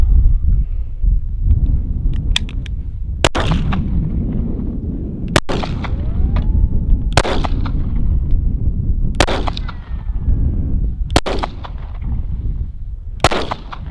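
Several sharp, loud gunshots from an HK P7M13 squeeze-cocker pistol ring out at irregular intervals a couple of seconds apart, over steady outdoor wind noise.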